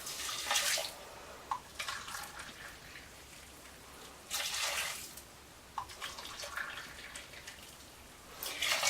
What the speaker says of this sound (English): Now to that we are going to add carefully 3 cups of boiling water.